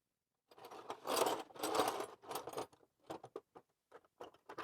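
An 11mm ratchet spanner works a bolt on a Citroën C5, with bursts of rapid clicking ratcheting followed by shorter separate clicks, close and fairly quiet with no talking.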